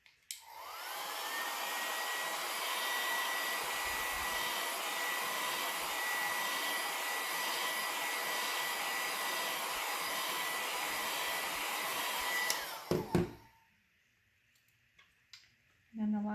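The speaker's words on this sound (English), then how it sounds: "Let it blow dry." A hair dryer blows steadily and loudly up close for about twelve seconds, drying paste on a North Pole postmark craft project, then clicks off abruptly and leaves near silence with a few small handling sounds.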